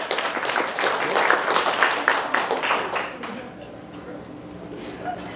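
Audience applause and clapping fill an indoor convention panel room, loud and dense for the first three seconds before thinning into scattered claps and crowd murmur.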